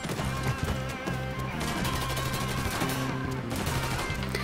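Dense, loud gunfire in Mafia 3 rattles in fast continuous bursts, machine-gun fire layered over game music with no voices.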